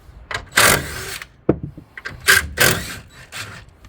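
A small impact driver removes headrest bolts from a Ford Explorer third-row seat, heard as several short, loud, close-up bursts of rattling hammering with brief pauses between them.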